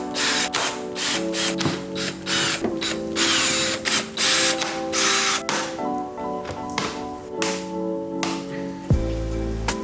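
A power tool whirs in short repeated bursts with ratcheting clicks as screws are backed out of a Yamaha R6 motorcycle airbox, each burst separated by brief pauses, close and fairly loud, with a heavier thud near the end.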